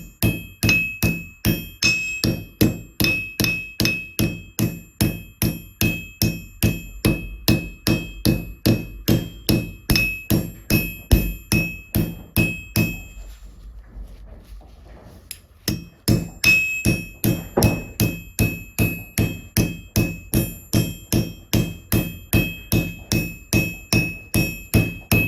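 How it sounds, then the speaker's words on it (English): Steady hammering on a copper bracelet to texture it, a fast run of sharp metallic taps with ringing overtones, a brief pause midway, then more even strikes, close and loud with no talk. "I'm just going to start hammering on this."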